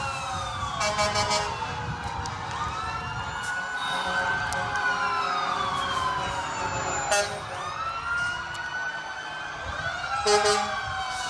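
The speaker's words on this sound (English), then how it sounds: "And the sirens begin." Several emergency sirens at a Christmas parade wail and sweep up and down together, fairly loud and continuous, with traffic rumble underneath and brief horn-like blasts.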